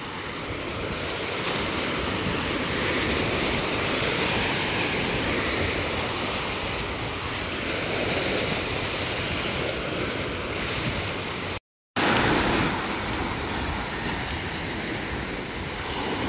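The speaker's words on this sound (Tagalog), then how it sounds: "Medyo may alon tayo ngayon, maalon ng dagat." Rough sea waves at the Julugan fish terminal in Tanza, Cavite give a steady, heavy roar of surf and rushing water, mixed with wind buffeting the microphone and a brief dropout near the end.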